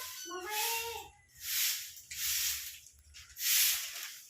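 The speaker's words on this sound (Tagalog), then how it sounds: "May nakalabas na cat." A pet cat that has just got out of its cage meows close by, several rising cries in the first second, followed by bursts of broadband rustling or scraping noise.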